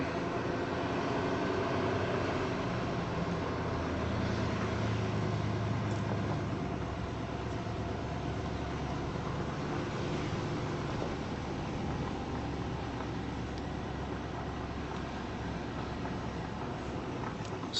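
Car driving slowly along a road across rural Vermont land near a river, a steady low engine drone and tyre rumble at an even level throughout, with no talking.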